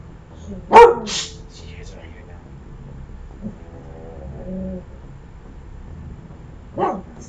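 A dog in the room barks once sharply and close, with a second, softer bark several seconds later. Quiet background sounds from a game run throughout.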